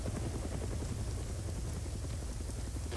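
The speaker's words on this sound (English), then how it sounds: "No, there are helicopters surrounding us." Steady, dense rotor roar of a helicopter gunship in the video game Arma 3 hovering close by, loud and continuous with a thick low rumble and no voices.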